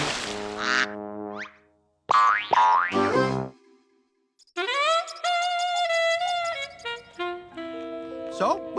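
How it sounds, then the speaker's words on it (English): Cartoon boing sound effects from a Gerald McBoing Boing episode, a run of springy, bouncing tones that slide up and down in pitch, broken by a short silence, with voices speaking around them. "Boing, boing, boing, boing."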